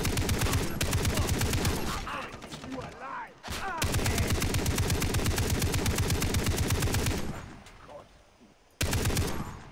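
Sustained automatic machine gun bursts fire in the video game Far Cry 3, loud and dense with brief pauses and one abrupt cutoff near the end.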